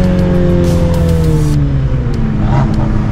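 A Mini Cooper GP racing on a city street at night revs hard and loud, its engine note sweeping downward through a gear, with faint tire noise underneath.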